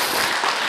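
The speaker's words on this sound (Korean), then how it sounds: "박수 한번 보내주세요." Audience applause at a Sunday Dharma service in a Buddhist temple, a dense, steady wash of many hands clapping close by, brief and without pause.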